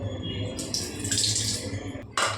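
A homemade herbal decoction of karpooravalli and betel leaves is strained and poured, liquid splashing in bursts over a low background hum, with a short pause before a final pour.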